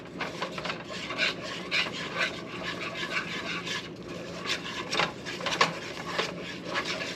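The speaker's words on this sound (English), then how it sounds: "and we start to whisk" A whisk scrapes rhythmically through a butter and flour roux in a pan, making a close, steady raspy rubbing sound with repeated strokes and no talk.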